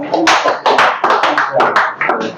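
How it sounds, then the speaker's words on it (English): A classroom audience gives a power clap: loud, close, rhythmic rounds of many hands striking together in quick repeated bursts. "Give yourself a power clap."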